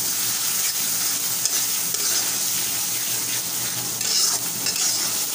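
Spices with cumin powder sautéing in a pan for a pumpkin and green chilli-coriander paste dish, a continuous close sizzle with stirring scrapes and a few sharp clinks of utensil against pan.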